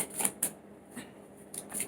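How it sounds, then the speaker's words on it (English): Tarot cards that are sticking together are shuffled close by, giving a few quick, crisp riffling bursts separated by short pauses. "It's getting difficult to shuffle your cards because they're"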